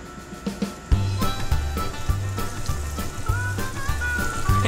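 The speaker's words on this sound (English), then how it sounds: "Chef Dustin goes old school, frying his chicken in lard." Flour-dredged chicken pieces fry in a pan of lard, giving a steady close sizzle and crackle throughout, with scattered pops and a low rhythmic thumping underneath.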